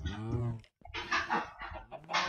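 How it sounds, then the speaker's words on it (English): A chicken in Minecraft clucks in short bursts, with several quick clucks at moderate loudness and brief pauses between them, and a voice appears to talk alongside. "There's a chicken here. Let's pick up this chicken."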